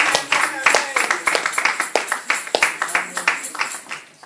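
A church congregation claps with rhythmic, fairly quick hand claps that repeat steadily throughout, mixed with cheering voices.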